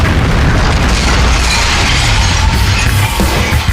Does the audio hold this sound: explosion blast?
yes